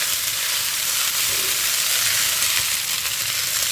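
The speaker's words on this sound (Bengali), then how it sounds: "তো ভালো করে নেড়ে নিই এবার" Pasta frying in a hot pan gives a loud, steady broadband sizzle that holds evenly throughout, with faint stirring scrapes beneath and no talking.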